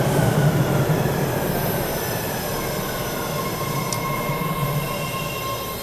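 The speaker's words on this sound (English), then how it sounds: "All right, let's get on the train." A train pulls into the station with its wheels squealing in long, thin high tones over a steady rumble of rolling carriages. The sound stays loud and near the whole time.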